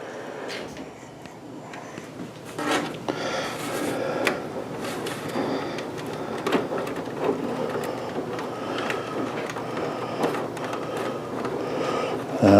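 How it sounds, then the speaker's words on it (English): Plastic case of a Vectrex console being pried and worked off, heard as a run of close, irregular creaks, clicks and snaps of plastic with scraping rubs in between, continuing steadily throughout. "So let's go ahead and pop this case off now."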